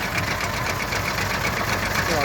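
A KATA KE 504 tractor with a 400-litre, 12-metre sprayer runs steadily while spraying a soybean field, its engine a constant close drone with a faint knocking rhythm.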